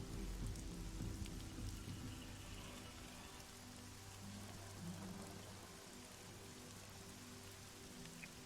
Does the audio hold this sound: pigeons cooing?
no